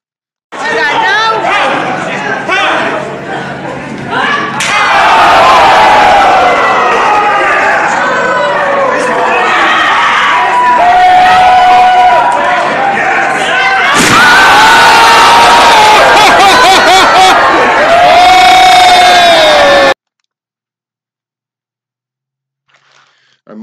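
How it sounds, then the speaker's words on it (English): Loud, sustained crowd cheering and excited chatter at a pro wrestling match, captured on a phone, swelling into roaring whoops midway before cutting out abruptly. "Just so you can get a sense of the crowd, how intense this match got, and how big and over this spot is"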